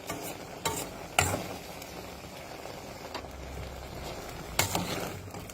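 Bamboo shoots and chili are being stirred in a pan, with a few sharp scraping strokes of the spatula standing out over a low, steady background.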